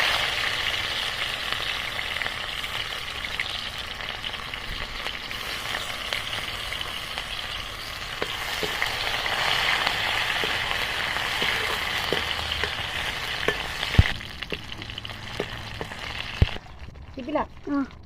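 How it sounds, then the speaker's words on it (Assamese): Crushed ginger and garlic hit hot oil in a kadai for a pork dish, giving a steady, close hiss of frying that fades toward the end, with a few sharp clicks. "দিলা এই খুন্দি থোৱা আদা ৰচুনখিনি দিছোঁ"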